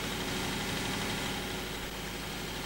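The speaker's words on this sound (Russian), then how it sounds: "Мне звук его нравится, этого трактора" A tractor engine idles in Farming Simulator 2017, a loud steady low rumble with a constant mechanical drone and slight vibration throughout, close by and with no talking.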